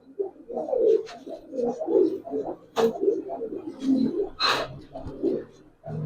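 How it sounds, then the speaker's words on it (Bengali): Domestic pigeons of old breeds, including Giribaz tumblers and baby birds, coo in soft repeated low murmurs, several birds close together, with occasional wing flutters and brief higher calls. "খুব ভালো ভালো জাতের পুরান জাতের কবুতর আছে।"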